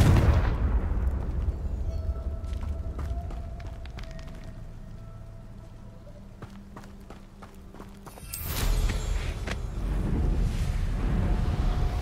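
A Confringo explosion spell cast in Hogwarts Legacy, heard as a sudden loud burst about two-thirds of the way through that follows quieter game sounds and lingers as rumbling debris.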